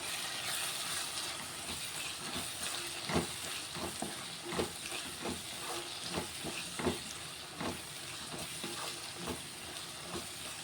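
Cucumber curry sizzles and hisses in the pan after coconut paste goes in, with repeated spoon or spatula stirring strokes over a steady frying crackle, no talking.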